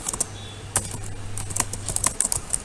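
Rapid, close clicking of keys on a computer keyboard, a quick run of uneven taps with a few louder strokes, heard alone without talk.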